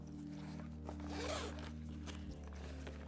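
The zip on a Peak Design Out Door 45L backpack is pulled in a short, close rasping run that swells and fades, quiet and on its own.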